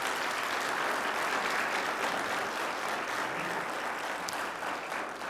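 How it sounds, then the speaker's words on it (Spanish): A church congregation gives a long applause of praise after a sermon, a dense, loud, even wash of many hands clapping that holds steady and eases off slightly near the end. "Dale un aplauso de alabanza al Señor."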